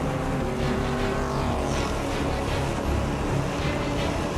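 Audi and Peugeot prototype race cars battle on track, a loud continuous roar of high-revving engines blending together as the cars run close, with no gaps in the noise.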